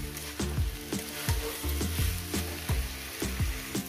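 Banana blossom curry cooks in a pan with a continuous close sizzle, broken by repeated rhythmic scraping strokes of a stirring utensil roughly every half second; nobody talks.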